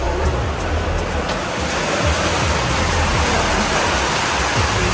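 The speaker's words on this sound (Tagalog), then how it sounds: "Lakas ng ulan." Heavy rain pours steadily onto a newly finished house with a cemented floor, a dense, even roar of water that stays loud and constant throughout with no voices.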